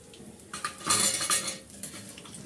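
Metal utensils clink and scrape against a frying pan as golden-brown fried rolls are lifted out of the oil, a short cluster of sharp clatters that rises and fades within a couple of seconds.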